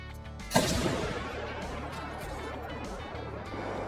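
A rifle shot rings out at a red deer in the hunting game Call of the Wild, a single sharp loud crack followed by a long rolling echo over a low steady ambient hum.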